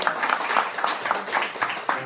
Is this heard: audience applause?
yes